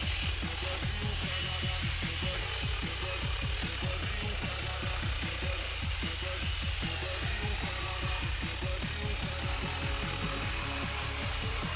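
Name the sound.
grinder cleaning up edges of snowmobile seat foam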